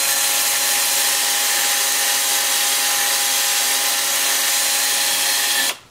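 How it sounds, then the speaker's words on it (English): A 2-inch disc sander grinds steadily against a turned wooden vase, a loud continuous whirring rasp that holds even for several seconds before cutting off. "I'm going to just going to take my 2-inch disc sander"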